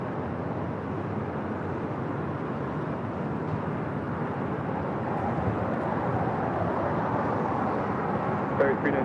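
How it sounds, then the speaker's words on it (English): Qatar Airways Airbus A350-1000 jet on its takeoff roll, a steady broad roar that holds evenly throughout at moderate distance, with no clear spoken words. "Up next, the Big Q, Qatar Airways Flight 740 heading to Doha at A350 1000."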